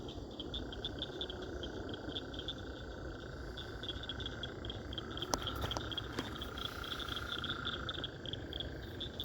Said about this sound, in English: I'm going to stop talking for a moment so we can just listen to these beautiful frogs for a moment.